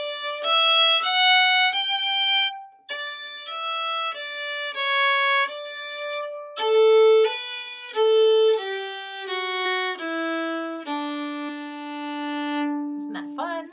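Last line of the Irish tune Morrison's Jig played on a string instrument: a clear, close solo melody of bright bowed notes in a lilting jig rhythm, ending on a long held note, no talk.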